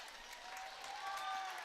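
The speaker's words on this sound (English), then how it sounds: "some applause coming in from the South Loop fans standing and applauding both of these teams" Fans stand and clap for both teams at a boys' high school basketball sub-district game in a gym. The applause is steady and somewhat distant, rising slightly toward the end, with a commentator talking over it.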